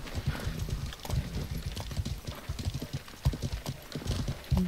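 Horse hooves clip-clop in steady, overlapping beats in the medieval online game Life is Feudal, fairly close and loud amid battle clatter, with scattered bursts of noise.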